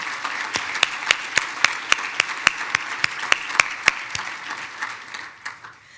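A dinner audience at a chamber of commerce annual event claps in a light wash, with a few sharp, evenly spaced claps standing out before the sound thins and fades.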